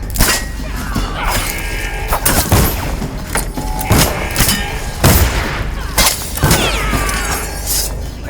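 Soldiers fire guns in the video game Dishonored, a dense, loud stretch of repeated gunshots and booms mixed with shattering, clattering impacts and combat noise throughout.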